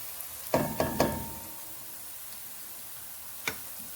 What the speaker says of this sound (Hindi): इस तरह से मैं इसमें बार बार चम्मच चला रही हूँ, इससे प्याज हमारी लगती नहीं है।